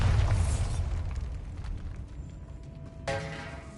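A Bombarda spell detonates in Hogwarts Legacy inside a tomb, a deep rumbling boom that decays over a few seconds, followed by a bright magical chime tone.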